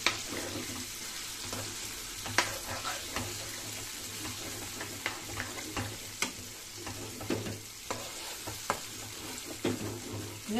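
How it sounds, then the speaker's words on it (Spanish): Still-frozen tomatillo frying for chicken and rice fills the pan with a loud, continuous sizzle, with regular clicks and scrapes of a stirring utensil throughout. "Entonces hay que freír esto muy, muy bien."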